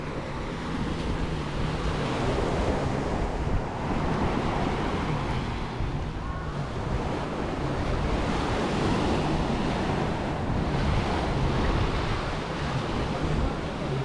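Sea waves washing onto the beach at Playa del Carmen, a steady, full roar of surf with wind buffeting the microphone, continuous and fairly loud for the whole stretch.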